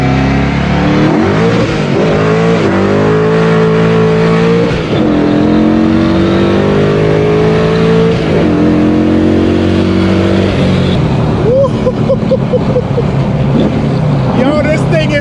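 A 1985 Mercury Capri RS engine revs loudly and close up, rising and falling through several throttle blips over a rumbling idle, with no talk over it.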